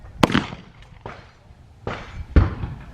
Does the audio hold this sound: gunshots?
yes